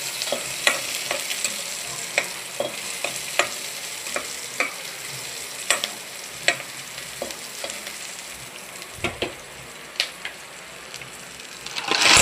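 Steady sizzling of garlic and onion frying in a pan, with scattered sharp pops and crackles throughout, close up and fairly quiet, no talking.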